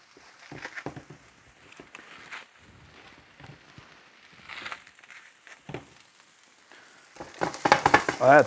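Torn green onions and chopped onions sizzle and crackle in a pan outdoors, a steady close fry with scattered pops, swelling louder and busier toward the end.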